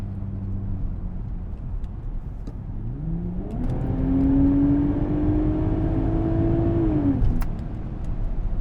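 An Audi S4 with an APR Stage 1 tune accelerates, its engine note climbing steadily in pitch over several seconds through a gear, then cutting off abruptly as the throttle is released, heard from inside the car with road rumble.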